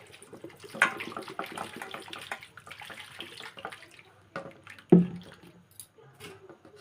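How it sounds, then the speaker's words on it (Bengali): Grated potato being rinsed under running water in a kitchen, splashing and trickling with wet squishing handling sounds and a sharp knock near the end, close by. "আলুটা একটু জল দিয়ে ধুয়ে নেব।"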